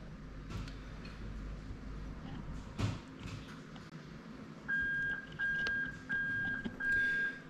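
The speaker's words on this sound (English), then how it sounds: "you can hear the beeping there to show that the reverse circuit is working as it should." Repeated electronic warning beeps from a car's reverse circuit, triggered when the J160 6-speed manual gearbox reverse switch is bridged in a UZ-FE V8 to Lexus IS200 swap; four steady tones sound in a regular rhythm after a brief clunk and background noise.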